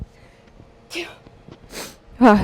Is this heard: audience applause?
no